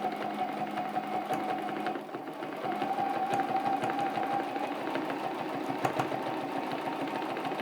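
Sewing machine quilting a spinning sun quilt block, running steadily and continuously with a rapid needle rhythm, close and even, with a brief dip in the middle and no talking.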